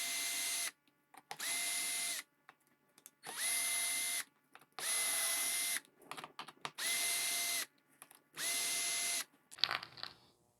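A power drill whirs in six or so loud, steady bursts separated by short pauses as it backs out the bolts holding a bushing, with small metallic clinks between runs.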